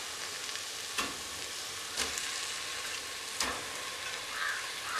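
Beef frying in a tomato masala gives a steady, dense sizzle, broken by a few sharp stirring knocks from a spoon against the pan.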